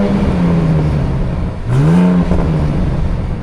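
Engine and exhaust of a 2025 Ram RHO 4x4 truck with two big exhaust tips, a deep steady idle broken by a sharp throttle blip that rises and settles back, close and loud.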